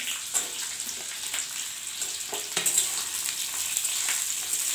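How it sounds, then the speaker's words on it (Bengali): Square-cut capsicum and onion petals frying in hot oil for egg chilli, a steady close sizzle with occasional scraping stirs and no talking. "ক্যাপসিকামটা একটু ভেজে নেব।"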